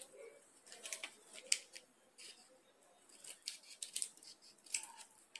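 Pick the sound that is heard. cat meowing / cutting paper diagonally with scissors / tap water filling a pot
cutting paper diagonally with scissors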